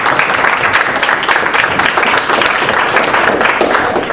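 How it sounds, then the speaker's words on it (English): A close, loud audience round of applause welcomes a speaker at a talk, dense and steady throughout the short stretch with no speech over it. "Let's give Gary a big round of applause and welcome."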